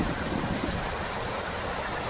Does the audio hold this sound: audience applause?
no